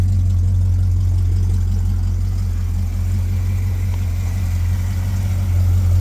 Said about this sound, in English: Listen to how smooth the engine runs.